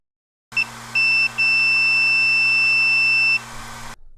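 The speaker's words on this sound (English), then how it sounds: "I checked the conductivity of the copper wire to make sure that my multimeter was working." Steady electronic beep from a multimeter's continuity tester checking a copper wire, a short tone followed by a longer sustained beep lasting about two seconds, clear and close over a low mains hum.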